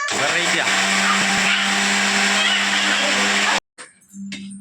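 A kitchen mixer grinder runs with a loud, steady motor whir close by, cuts out abruptly, then briefly starts up again.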